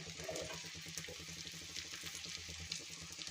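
Mixed vegetables, including flat beans, val papdi and brinjal, frying in oil for a traditional Bhogi bhaji: a soft, close, steady crackle and sizzle with a rapid bubbling patter, no voices.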